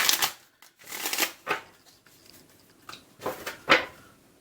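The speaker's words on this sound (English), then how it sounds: "just bear with me a few minutes, Aquarians, as I shuffle these cards" Tarot cards being shuffled by hand in several bursts of riffling, brushing card noise separated by short pauses, close and fairly clear.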